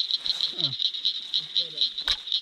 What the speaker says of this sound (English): It's a little big green frog.